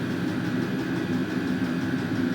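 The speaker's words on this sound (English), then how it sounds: "It only makes that clicking sound when it's heating up," A Vevor diesel air heater runs indoors with a steady low hum and a constant whirring drone, close and even throughout, with faint regular ticking on top.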